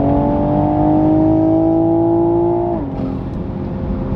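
A BMW car accelerates hard up to the speed limit, a steady loud engine drone with a rising pitch that drops abruptly near the end as the revs fall, heard from inside with no talk.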